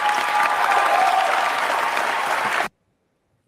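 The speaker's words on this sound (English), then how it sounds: "notice the applause, right? It's not like it's 2 or 3 people clapping." A large audience applauding, many hands clapping together in a dense, loud, sustained burst that cuts off abruptly to silence.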